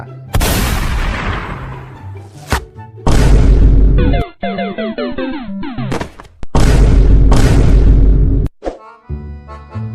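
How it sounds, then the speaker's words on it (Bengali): Loud, close bursts of gunfire boom out in several heavy, echoing volleys, separated by brief crackling and rattling stretches. "বরাবর গুলি করবা বরাবর একদম"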